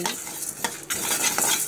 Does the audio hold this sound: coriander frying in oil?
yes